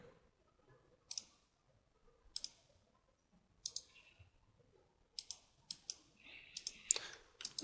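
Mouse clicks in image editing software, about nine sharp, close clicks that are spaced out at first and then come quicker and in pairs, over a quiet background.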